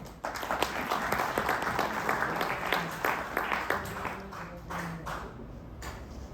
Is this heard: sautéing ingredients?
no